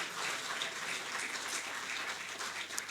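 Steady, moderately faint applause from the audience at a felicitation ceremony for Asian Games 2022 medal winners, a dense even patter of clapping with no voices over the full stretch.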